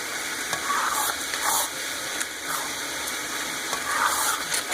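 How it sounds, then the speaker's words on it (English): Kasoy meat sauce cooking in a pan, a steady, close sizzle and bubble with the occasional scrape of a spoon stirring through it and no talking. "you want to let this simmer a little bit until the meat is thoroughly cooked"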